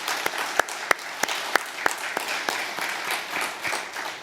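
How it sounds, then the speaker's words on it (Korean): A church congregation applauds together during a worship service, a steady wash of many hands clapping with a few sharper, louder claps standing out near the front, holding at a fairly even level throughout. "큰 박수 보내주시기 바랍니다"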